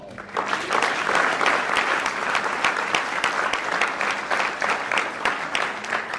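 Audience applause for the actors of a Hindi stage play in Delhi, a steady loud wash of many hands clapping that continues throughout without a break.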